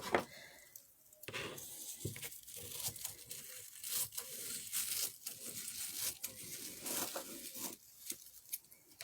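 Scissors cut straight across the top of a flattened plastic bag, producing close, irregular crinkling, rustling and snipping bursts with short pauses between them, with no talking.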